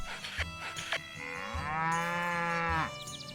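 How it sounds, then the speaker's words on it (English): A cow in the farming game Story of Seasons: Pioneers of Olive Town moos several times, short calls first, then one long drawn-out low moo, clear and close with no talk. "I've got my barn for my cow"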